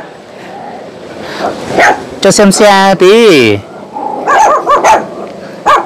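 Hmong dogs bark loudly and repeatedly at a rural mountain homestead, sharp yelping barks and whines in bursts, close by, while someone talks over and between them.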